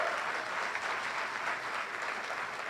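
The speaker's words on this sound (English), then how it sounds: "give her a round of applause" Audience applause at a New York State Senate swearing-in ceremony with Governor Cuomo: dense, steady clapping from many hands, sustained at an even level throughout with no voices over it.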